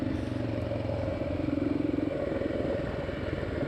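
A motorcycle rolls down a steep, slippery bush trail with a low, steady engine chug and faint rattling, close and continuous.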